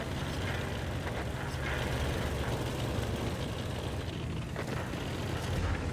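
Continuous low engine rumble from the LHMTV light tank in World of Tanks on Murovanka, a steady near drone that holds level for the whole stretch without any talking.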